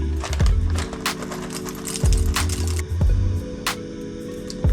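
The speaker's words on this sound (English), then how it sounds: "I'm going to grind some coffee" Coffee beans are crushed in a grinder in a Bali morning kitchen, the clip filled with rapid, uneven crunching and clattering bursts that stop and start in short runs, close and fairly loud.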